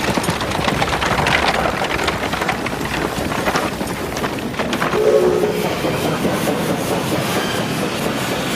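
A train runs steadily on rails with a continuous rumbling roar and rattling clatter, close and loud, with a brief whistle-like tone midway and no talk.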